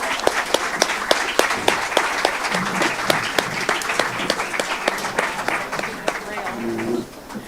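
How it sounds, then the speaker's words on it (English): An audience at a city commission candidate forum gives a round of applause, with sharp individual claps standing out above the crowd's steady clapping and faint voices, then fading near the end. "let's give a round of applause."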